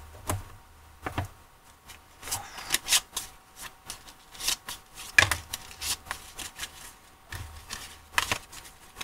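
Oracle des amoureux oracle cards being shuffled by hand, a run of crisp riffling flicks and soft papery slaps in quick uneven bursts, close and fairly quiet, with no talking.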